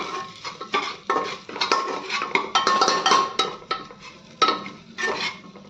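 Vegetables being stirred in a pan with a utensil, a series of close, loud scraping strokes with light clinks and a faint sizzle, no voices.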